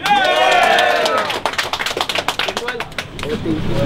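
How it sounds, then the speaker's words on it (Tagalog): Street battle crowd in Tanza, Cavite cheering and shouting for Damsa, loud overlapping yells and whoops with rapid claps, swelling and dipping, with a voice talking over them. "parinig naman ngayon ng sigawan at hiyawan sa lahat ng mga pabor kay Damsa"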